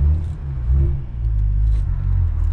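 Cadillac CT4-V Blackwing with a manual clutch pulling away, its engine a loud, close, steady low rumble swelling slightly as the car moves off.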